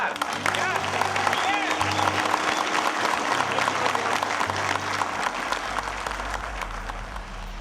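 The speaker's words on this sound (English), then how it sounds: "Give him a round of applause." A crowd at a gathering breaks into a round of applause, a loud, sustained wash of clapping that runs throughout, with a low hum and some voices mixed underneath.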